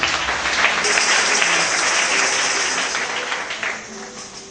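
Church congregation applauding the Lord Jesus Christ during a service, a dense, steady wash of clapping hands that holds loud throughout and eases slightly at the end.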